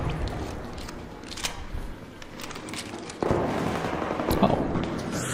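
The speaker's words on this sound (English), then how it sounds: "He's throwing grenades over here." Grenade explosions in a video game, several muffled blasts and crackles over a busy background, with a sharp louder burst partway through followed by continued rumbling activity.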